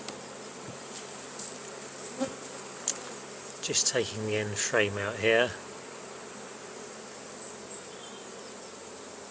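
A constant drone of many bees buzzing around a hive fills the air, with someone briefly speaking close by over the hum.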